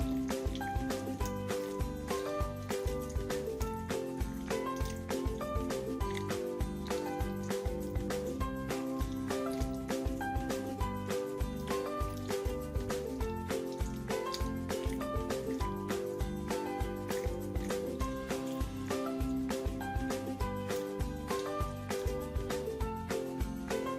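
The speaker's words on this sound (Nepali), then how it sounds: "पनिरलाई पनि अब सबै चिजहरूसँग मजाले मिक्स गरिदिउँ" Paneer stirred into a pan of potato curry ingredients gives a rhythmic, repeated squishing and scraping that runs evenly throughout, close and alone, with no talking.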